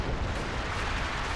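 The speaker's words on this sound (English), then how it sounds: "And we've got some major artillery being brought on in" An artillery barrage in the Company of Heroes strategy video game, a dense, rumbling wash of distant booming explosions that blur together in a steady roar.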